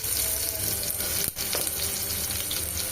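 Oil sizzles steadily in a pressure cooker while ridge gourd curry is prepared, a close, continuous frying hiss with a brief scrape or stir partway through.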